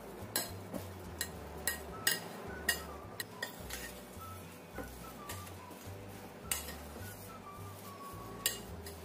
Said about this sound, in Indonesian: Ini kita haluskan, bisa menggunakan ulekan atau sendok seperti ini, bisa juga menggunakan garpu.